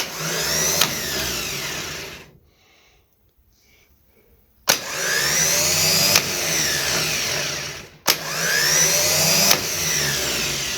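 Starter motor on a 1971 Lincoln Continental cranks in loud sustained whirring bursts, stopping once for a couple of seconds of near silence before two more runs with sharp clicks at the starts.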